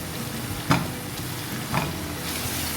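Spinach dropped into a pan of frying dal tempering, a steady oily sizzle with two brief louder bursts as the leaves hit the hot fat, close and without speech.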